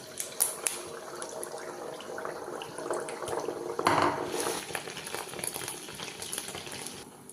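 Neyyappam batter fries in hot oil with a bubbling sizzle, and utensils clink now and then. It swells briefly near the middle, then eases back to a steady simmer.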